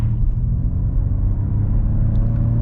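A 2021 Ford Mustang Mach-E GT Performance Edition electric car accelerates hard from a stop, a steady low rumble and whir heard from inside the car, loud and continuous with no talk.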